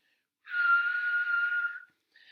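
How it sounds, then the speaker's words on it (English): A single breathy whistle holds one steady note for over a second, close by, followed by the start of a second faint whistle. "Watch me whistle."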